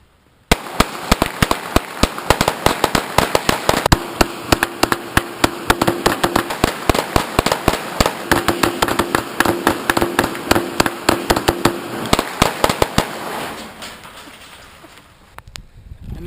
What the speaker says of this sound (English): You shoot it with a FiveSeven, a 223 AR-15, and a Smith&Wesson M&P 9mm